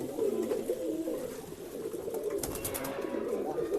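Pigeons at a bird sales spot coo in low, rolling, overlapping calls that continue steadily, fairly close, with a brief brighter chirp partway through.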